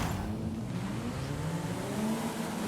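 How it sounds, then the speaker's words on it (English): Mitsubishi Evo cars engine drone in a racing video game drag race, a steady, continuous loud motor hum with layered engine harmonics throughout, no talk. "we thought we'd drag race it against a selection of other Mitsubishi Evos"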